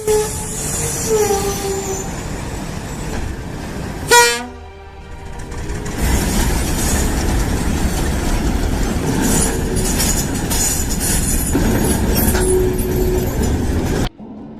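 A train rushes through a level crossing just after a vehicle clears the tracks, its horn blaring loud and near over a steady rumble of wheels and cars that fills most of the stretch.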